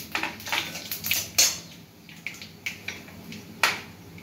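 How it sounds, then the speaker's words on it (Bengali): Two whole dried red chillies and a little black mustard seed spit and pop in hot oil, with sharp irregular crackles over a faint sizzle and no talk. "এবার তেলের মধ্যে ফোড়ন দিয়ে দিচ্ছি 2টো গোটা শুকনো লঙ্কা আর সামান্য কালো সর্ষে"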